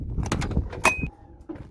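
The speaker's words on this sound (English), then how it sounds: "let's go ahead and go to the entry door" The entry door of a 2016 Tiffin Allegro Bus diesel motorhome gives a few clunks and a sharp latch click, then a brief mechanical whir and a soft thump, close and clear.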